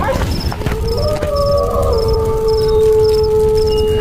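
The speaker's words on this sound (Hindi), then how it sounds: "गली के कुछ कुत्ते बिलुआ और चतुर सिंह को अनजान व्यक्ति देख भौंकते हुए काटने दौड़ते हैं" Street dogs howl in long wavering tones over rough barking and a steady chirping background, a loud sound effect in a Hindi village story.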